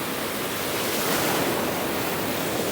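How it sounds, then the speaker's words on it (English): Big ocean waves on the Oregon coast heard while surf fishing: a loud, steady wash of surf noise, close and continuous, with a broad swell in the middle and no voices. "those two big waves right there came up close to midpoint of my knee"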